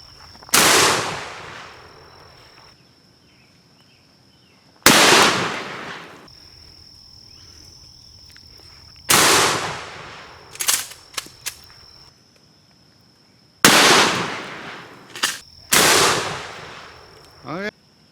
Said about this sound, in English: double-aught buck, 12 gauge shotgun.